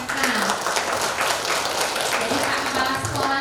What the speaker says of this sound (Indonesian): Tepuk tangan untuk SMK.